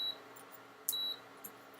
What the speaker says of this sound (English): beep, beep, beep for my induction plate